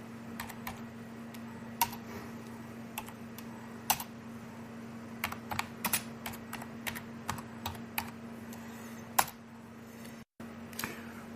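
Quiet computer keyboard typing in irregular bursts of sharp clicks, some keys struck singly and others in quick runs, over a faint steady electrical hum, with a brief dropout near the end.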